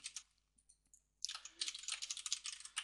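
Quick keystrokes on a computer keyboard as a search is typed, a few scattered clicks followed by a close, rapid burst of tapping with no voices.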